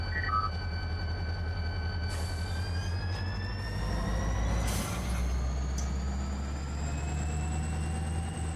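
Handbrake being applied on a locomotive in the Run 8 train simulator game: a steady air-brake hiss and release over a continuous low engine idle rumble, with faint high tones, loud and close, no talking.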